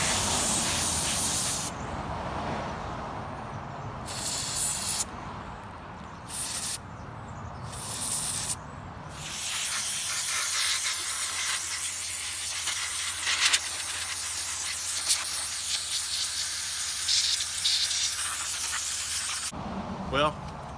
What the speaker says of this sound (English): brake clean, it doesn't last long, but it works wonders